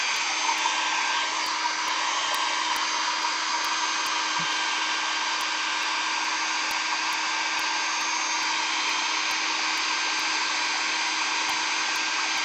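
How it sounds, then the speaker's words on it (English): A hair dryer blows continuously at high power, a loud steady whooshing roar that holds unchanged throughout with no talking. "Hair dryer."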